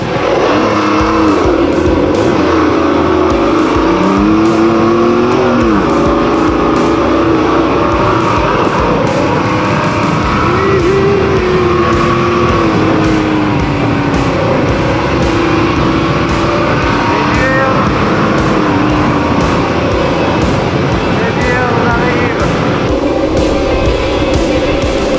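A 1999 Kawasaki KMX 125 two-stroke enduro motorcycle is ridden off-road, its engine buzzing loud and close throughout, pitch rising and falling as the throttle opens and closes, with no pause.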